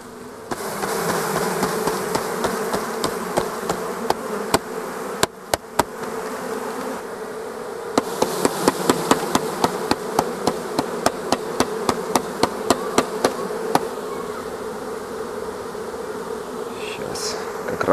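Honey bees buzzing loudly as a swarm is knocked out of a trap into a log hive, a steady close drone of many bees broken by runs of sharp, rapid knocks and thumps.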